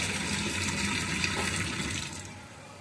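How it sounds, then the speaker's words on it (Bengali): Fish being rinsed clean in running water during home cooking, a steady broadband splashing and trickling wash that holds evenly, then eases off slightly near the end, with no talking. "এই তো মাছগুলোকে পরিষ্কার করে ধুয়ে নিয়ে নিচ্ছি বুঝছেন"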